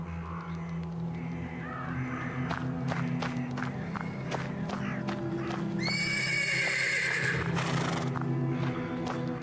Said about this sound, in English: The persistent neighing of a horse can be heard.